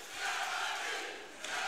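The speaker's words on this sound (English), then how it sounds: "as the crowd scream his name for a bit of encouragement" A crowd at a Contenders 16 grappling event screams a fighter's name, a brief swell of massed voices heard at a distance with no commentary over it.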